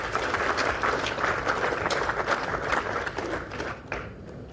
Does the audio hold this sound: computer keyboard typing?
no